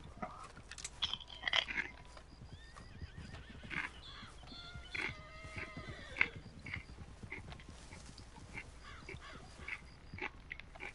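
A horse in the video game Red Dead neighs and whinnies amid scattered chewing and crunching noises, the calls faint and intermittent over a quiet background.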